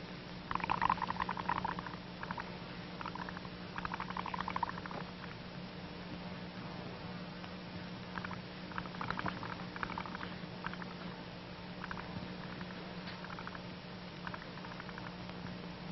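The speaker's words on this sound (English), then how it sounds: "Oh, blowing lots of little bubbles." Soft bubbling and gurgling from air blown through a pipe into water, coming in short bursts with quiet gaps, close and fairly faint.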